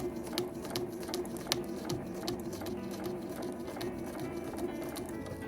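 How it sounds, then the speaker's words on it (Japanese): A sewing machine stitches through Korean nubi quilted fabric for a small insulated drawstring tote, giving a quick, steady rhythmic clatter of needle strokes, close and moderately loud. "ミシン目を重ねましょう。"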